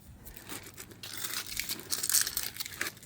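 Protective film peels off a new wheel emblem on a 2005 Acura TL fitted with Avid1 AV6 wheels, a close crinkly tearing rustle that swells over about three seconds.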